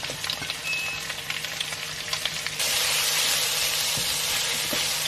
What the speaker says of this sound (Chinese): 锅里加入油，放入蒜末、虾仁，倒入蔬菜翻炒。